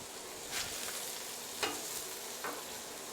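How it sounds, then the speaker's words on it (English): Burgers sizzle steadily in a pan just after being flipped, giving a continuous frying hiss broken by a few brief scrapes or stirring accents, with no talking. "I'm going to go ahead and give these guys a flip."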